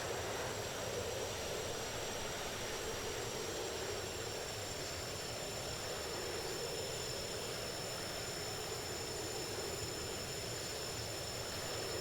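JF-17 Thunder jet in the DCS flight simulator game, a steady, unbroken engine drone with a whining tone, holding level and fairly quiet throughout with no talk.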